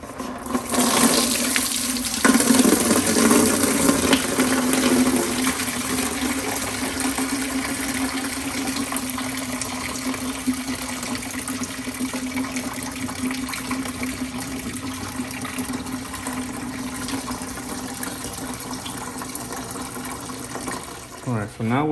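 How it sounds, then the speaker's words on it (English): Coolant drains out of a car engine as a steady, hissing, splashing stream that runs continuously for a long stretch, close and fairly loud, with a louder gush near the start. "I'm going to go ahead and drain the coolant out of this thing"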